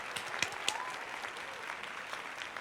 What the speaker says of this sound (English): let's get a round of applause in the chat